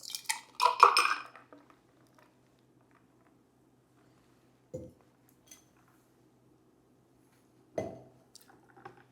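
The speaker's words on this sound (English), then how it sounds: "just shake and dump, so just pour all the ingredients directly into the glass with the ice" A cocktail shaken in a metal tin, then poured straight into a glass over ice: a rattling clatter up front, then a few isolated clinks and splashes, close and alone.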